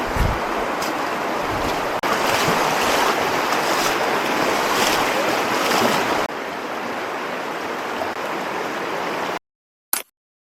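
River water rushes and churns loudly and continuously as someone hikes upstream through the river in The Narrows at Zion National Park, a steady broadband wash that drops off abruptly near the end.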